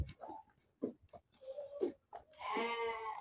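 Several Kyrgyz lambs bleat nearby in short cries from different directions, ending in a longer wavering bleat, with no talking heard.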